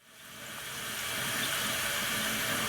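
Cold tap water runs steadily over eggs, a continuous hissing splash that swells in the first second and then holds at an even, moderate level with no talking.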